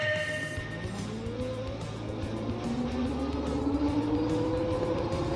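Electric scooter, a 2024 Ghostcat F3 with a high-torque drivetrain, accelerating from 0 to 20 mph: a steady whine climbs in pitch over constant wind and road noise, with no talking.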